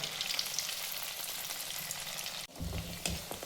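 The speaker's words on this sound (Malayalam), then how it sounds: "നമുക്ക് നമ്മുടെ പത്തൽ എണ്ണയിലേക്ക് ഇട്ട് കൊടുക്കാം" Pathal dropped into hot oil frying vigorously, a dense bright hiss throughout, briefly interrupted by a sudden dip and then a burst of bubbling and crackling as the sizzle resumes, close and without speech.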